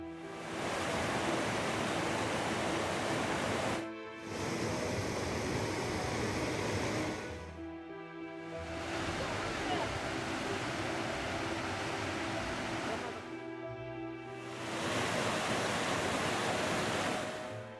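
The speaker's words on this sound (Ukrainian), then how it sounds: "Ось цей водоспад гуркало." A small waterfall by the Tsapovi rocks roars steadily, a loud, continuous rush of falling water with brief dips in level.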